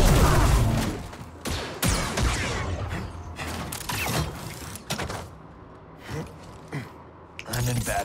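Rapid blaster gunfire in the Star Wars Jedi Survivor video game, with repeated sharp shots and mechanical clatter mixed into a busy battle, while voices talk over the fighting.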